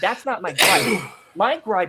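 A single sharp sneeze bursts out amid people talking, a loud, brief noisy blast between stretches of conversation.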